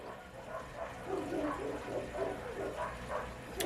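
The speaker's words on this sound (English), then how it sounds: "if you guys could hear the dogs barking" Several dogs bark repeatedly in the distance, a faint, steady series of woofs over a low background hum.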